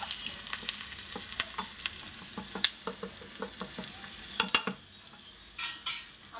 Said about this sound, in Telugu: ఇంకా ఉల్లిపాయలు వేగాలి